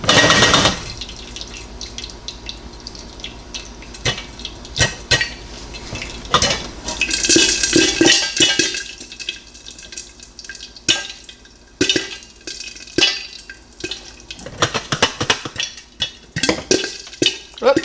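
Popcorn kernels in hot oil burst in scattered sharp pops and crackles, irregular over a faint sizzle, close by, some clusters dense and others sparse, without talking.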